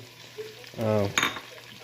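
Kala bhuna meat curry frying in a home kitchen pan, with a soft steady sizzle that swells into a louder burst of frying and stirring before easing back down; a brief tonal, voice-like sound briefly sits above it.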